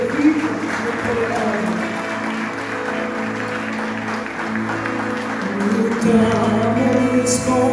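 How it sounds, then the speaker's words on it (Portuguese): Congregation applauding during a church worship service, steady broad clapping throughout, blended with sustained music underneath and swelling slightly near the end. "Você pode aplaudir,"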